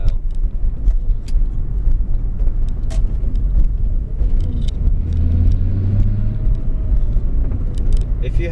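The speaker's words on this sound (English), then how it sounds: "The VR6 have their distinctive sound to it," A Volkswagen Mk3 Jetta GLX VR6 engine runs steadily at low RPM, giving a continuous, close, deep rumble with a slight swell in the middle.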